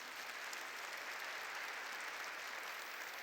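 A church congregation clapping during a sermon, a dense, even burst of applause from many hands that stays steady and fairly soft for the whole moment, with no voices.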